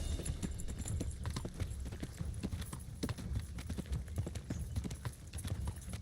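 Horse hooves clip-clop steadily at a brisk, even rhythm in a medieval video game set in Bohemia, close and clear over a low rumble of background ambience, with no talking.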